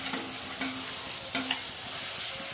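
Spices, onion and tomato frying in oil while being stirred, a constant sizzle broken by a few sharp spoon clinks against the pan; no talking.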